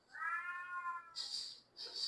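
A pet cat meows close by in a kitchen, one long drawn-out call followed by two shorter sharp cries, fairly loud against a quiet background.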